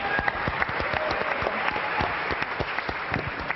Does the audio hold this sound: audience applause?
yes